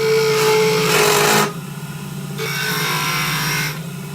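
A tool rasps steadily against a spinning wooden wand handle on a lathe, cutting decorative lines into it. The grinding is continuous and close, with a brief lighter pause midway.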